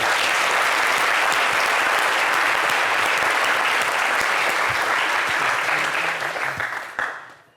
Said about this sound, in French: Applaudissez pour Mme Dominique.